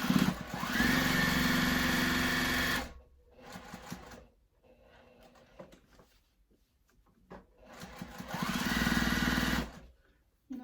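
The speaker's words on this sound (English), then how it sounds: "So now I'm sewing the pocket with a 1/4 inch seam allowance." A domestic sewing machine stitches a pocket with a quarter-inch seam and 2.5 stitch length, running in two steady, close bursts of whirring with quieter handling clicks and fabric shuffling between them.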